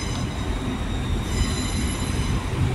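Wheels on a Hull Trains Class 802 squeal loudly and continuously at London King's Cross station, with steady high-pitched tones held under a rumbling rail background.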